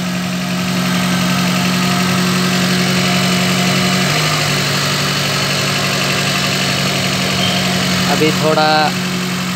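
Maruti Zen MPFI car engine idling steadily after a throttle body service, with a constant low hum and vibration up close and someone speaking briefly over it.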